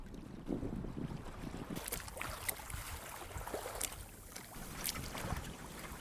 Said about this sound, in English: we've just sailed off the pontoon, which is rare because the wind was blowing onto me